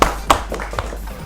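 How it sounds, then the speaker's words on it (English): A few scattered hand claps at a school quiz final in 2019, three sharp separate claps spaced over about a second, fairly close, with faint room background between them. "Big round of applause to Team A."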